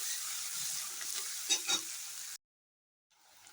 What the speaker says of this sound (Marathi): हा चिरलेला कांदा आहे हा घालायचा आहे आणि त्याला चांगला फ्राय करून घ्यायचा आहे.